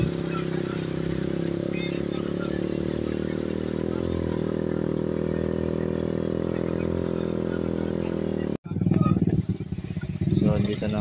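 A motorized tricycle carries riders through flooded streets of Hagonoy in the rain, its engine humming steadily up close, then cutting to a rougher, clattering engine sound with voices at times.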